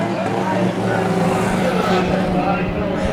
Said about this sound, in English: Let's take a listen to Kyle Holder when she drives by.